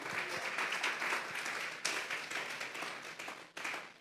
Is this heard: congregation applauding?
yes